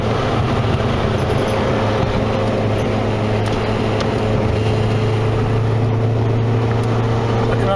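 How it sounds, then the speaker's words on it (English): Constant droning hum from a Nissan N13 Sunny Pulsar with a CA18DE engine and a suspected worn wheel bearing, a loud steady whir with tonal bands while driving, no break throughout. "It's not that bearing, I bet it's probably wheel bearing"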